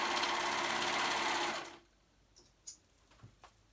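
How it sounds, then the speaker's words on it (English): Sewing machine stitching a band of delicate fabric into a continuous round, running in a fast, steady whir for about a second and a half, then stopping, followed by a few faint clicks and handling noises. "I'm gonna sew that long edge on the one side first to make it a continuous round"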